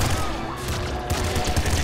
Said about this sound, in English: Ooh, triple machine gun.